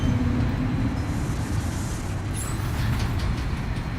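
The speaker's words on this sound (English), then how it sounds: "Back and forth, dude, on this monorail." Monorail ride in Death Stranding: a steady, dense rumbling hum of the moving rail car, constant and close, with faint higher whines and clicks drifting over it and no talking.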